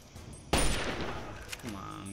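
Fallout 3 gunfire erupts as a loud, sudden burst of shots that rings out and decays over the next second and a half, with a faint game backdrop before and after.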